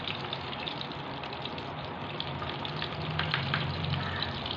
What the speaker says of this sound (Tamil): நம்ம எண்ணெயை வேஸ்ட் பண்ணாமல் தண்ணி போட்டுருக்கேன்